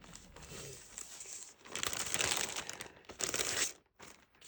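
Strip of tape being handled for a paper pumpkin craft project with a corner tuck, giving close, continuous crinkling and tearing rustles that swell in bursts, with no talking.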